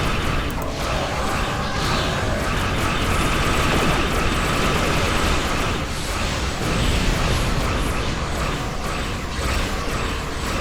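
A dense, continuous weapons barrage in the space combat game Star Trek Online, with rapid overlapping blasts and booming impacts forming a loud, unbroken wall of noise without speech.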